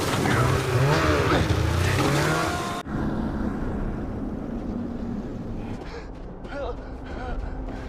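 A snowmobile engine drones in a snowstorm scene from a film, a rough motor rumble with wind noise, heard under a voice at the start before continuing alone.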